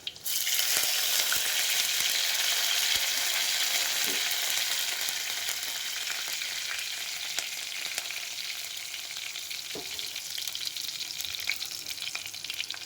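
Radish rasam mixture with curry leaves sizzles and fries steadily in hot garlic oil, a loud continuous crackle with occasional stirring clinks, no voices.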